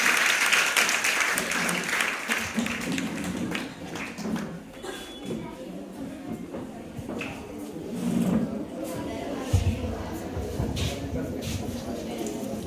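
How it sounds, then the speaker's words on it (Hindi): A crowd at a school farewell ceremony for teacher Jageshwar Prasad applauds, loud clapping at first that thins into scattered claps and room noise, with voices talking over it. "जागेश्वर सर के लिए जोरदार ताली हो जाए"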